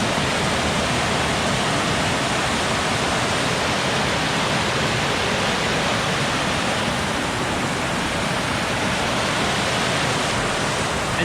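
A creek cascade in heavy rain rushes in a dense, unbroken roar of churning water, loud and close throughout, with no voices.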